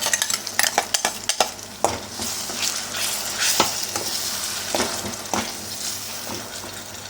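Onions sizzle in a hot pan while a utensil scrapes and clatters against it, stirring in irregular strokes over a steady frying hiss.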